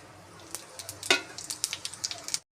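Cumin and mustard seeds fry in hot oil, giving a run of sharp, crackling pops and spits over a light sizzle that stop abruptly after a couple of seconds.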